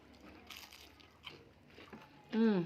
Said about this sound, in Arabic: حلو مقرمش وحلو